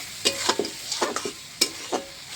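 Ground masala, stone-ground on a grinding slab with tomato, fried and stirred in a pan: a steady sizzle broken by several sharp scrapes of the spatula at uneven intervals, close and fairly quiet with no voices.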